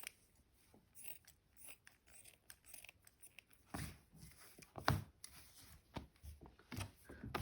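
Sharp scissors cutting an old cotton top into strips, irregular crisp snips and fabric rustles, close and quiet with pauses between cuts.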